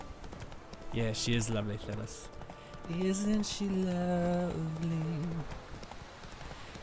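In The Witcher 3, the horse Roach's hooves clip-clop in two bursts of rhythmic steps, with someone talking over them throughout.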